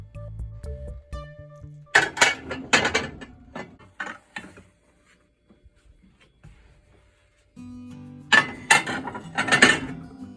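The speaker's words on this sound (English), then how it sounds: "I'm gonna take some of the dishes and put them under the air fryer" Kitchen dishes are moved and stacked into the space under an air fryer on a counter. Two bursts of close clattering and clinking are separated by a quiet stretch with only a few faint knocks.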